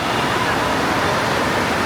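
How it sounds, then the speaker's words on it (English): Indoor water park wave pool, a steady wash of rushing water and surf that fills the space evenly, loud and continuous with no breaks. "take another look at the wave pool"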